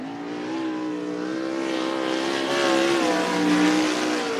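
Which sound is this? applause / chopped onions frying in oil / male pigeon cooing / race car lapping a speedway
race car lapping a speedway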